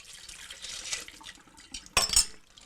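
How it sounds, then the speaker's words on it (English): Water poured out of a bottle over a tray while bottling home-brewed beer, a faint trickling splash that rises to a short louder gush near the end. "Pour out some of the water."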